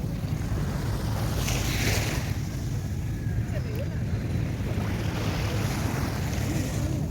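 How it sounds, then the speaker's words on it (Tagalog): Waves roll steadily onto the shore at a resort beach on the sea, forming a continuous low wash with wind buffeting the microphone throughout and no distinct voices. "Yung dagat, tam-tam lang yung alon, hindi siya malaki, hindi rin maliit."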